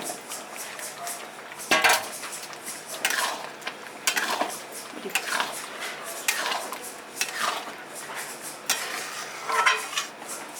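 Potatoes go into simmering gravy for cashew-paste aloo dum and are stirred in a pot, giving repeated clattering, scraping spoon-on-metal knocks and clinks at an irregular rhythm, close and moderately loud.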